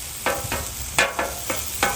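A metal spatula chops ground beef on a hot griddle, about six sharp, irregular strikes over a steady background sizzle.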